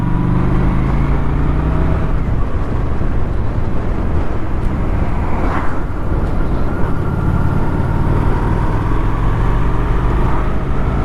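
Cars passing on a road, a loud continuous roar of traffic with engine and tyre noise, one vehicle swelling past near the middle, close and steady with no voices.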